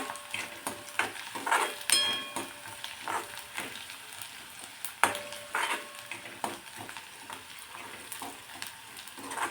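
Coarse ginger-garlic paste sautéing in a pan, a steady soft sizzle broken by scraping stirs and a few light clinks of a spoon against the metal, close and fairly quiet with no talk.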